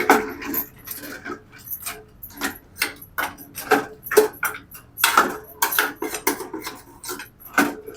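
A spoon stirs thick Konkan village-style crab curry in a pot after water is added, making steady close scrapes and clinks against the metal in a quick, uneven rhythm throughout.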